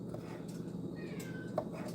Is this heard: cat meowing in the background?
yes